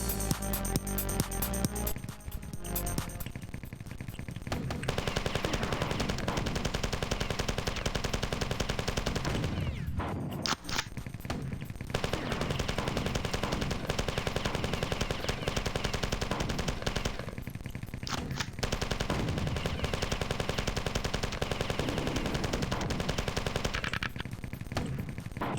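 Machine gun fire in the video game Marathon Trojan pours out in long, loud, rapid bursts across most of the stretch, broken by a few short pauses.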